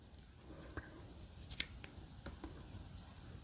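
Scissors snip through yellow crochet yarn while a daisy hexagon dish scrubber is being made. A couple of crisp, close cuts stand out against a soft, quiet background.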